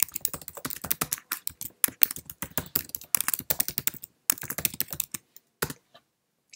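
Someone types a caption on a Mac desktop computer keyboard, producing quick, crisp close key clicks in bursts with brief pauses that taper off into a few final taps.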